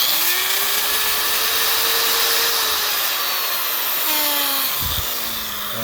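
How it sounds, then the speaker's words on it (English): A Makita angle grinder, just fitted with a replacement power cord, runs with a steady, loud motor whine, then slows near the end with a falling pitch as it spins down. "So we're going to plug in this this grinder, and we'll give her a whirl"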